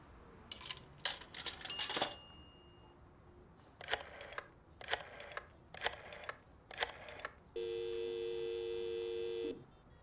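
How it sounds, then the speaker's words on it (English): Within the Blacksad: Under The Skin video game, a telephone gives a sustained electronic ring near the end, preceded by a series of sharp clicking bursts in an otherwise quiet scene. "Is this the phone that's been ringing?"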